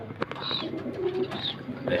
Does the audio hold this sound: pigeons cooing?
yes